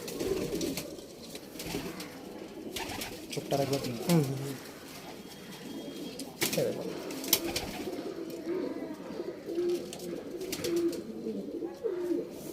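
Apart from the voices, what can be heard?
pigeons cooing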